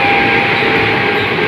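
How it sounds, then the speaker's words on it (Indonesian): A 10-car KRL commuter train rumbles past close by at Universitas Pancasila station, a loud steady roar with a high metallic whine running throughout. "Nah, ini dia ada kereta KRL lewat"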